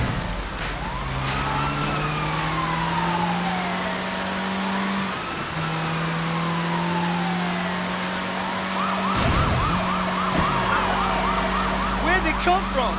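Police car sirens in the Sleeping Dogs game wail in overlapping rising and falling sweeps over steady traffic noise. They grow louder and more frantic toward the end as more cars join in.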